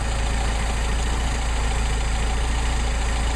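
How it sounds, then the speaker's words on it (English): A Mercedes 190SL engine with a Solex carburetor idles steadily and close by while the carburetor is being adjusted, its even low rumble holding throughout with no voices. "Idle drops off."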